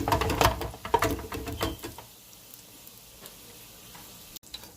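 Egg rolls frying two at a time in a pan, a busy crackling sizzle that is loud and dense at first, then settles into a softer, steady hiss with occasional pops.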